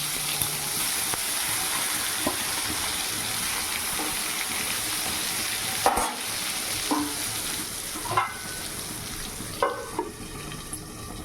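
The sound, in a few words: brinjal (eggplant) frying in oil in a wok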